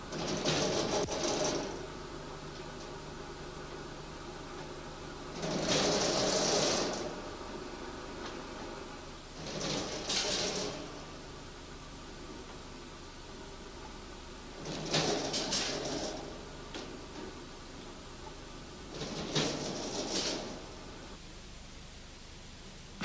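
An SMV Nibbler 4 punching machine strikes sheet metal with a 35 mm square punch, cutting corners and rectangular holes; five separate broadband punching bursts land at irregular intervals over a steady mechanical hum, moderately close, with no voices.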